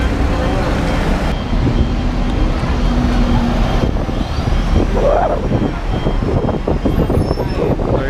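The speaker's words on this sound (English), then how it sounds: "it looks like over there are the actual buses" Buses at an airport terminal in Hong Kong, a loud continuous traffic rumble with engine drone and the hiss of air brakes, with people talking nearby.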